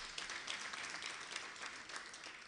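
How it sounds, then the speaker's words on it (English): An audience applauds steadily at an event on a public service superannuation fund, a dense wash of many hands clapping throughout with no pauses, fairly distant and moderately loud. "Can we clap for them?"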